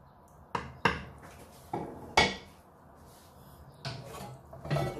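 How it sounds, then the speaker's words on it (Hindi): A metal kadhai (wok) holding cooked lamb neck is set down with several sharp clanks and knocks on a kitchen surface, a few separate clatters spread across the moment, close and moderately loud with no talking. "कढ़ाई यहाँ पे रख देते हैं"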